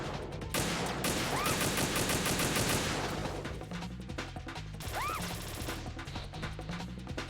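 Metal Gear Solid 2 gunfire rattles almost continuously, dense and sharp, with a couple of brief whistling ricochets cutting through the steady barrage.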